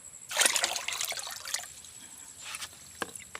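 Spring water trickles and splashes close by while plants are watered in a rural yard, a faint irregular dribble with brief louder spurts and pauses.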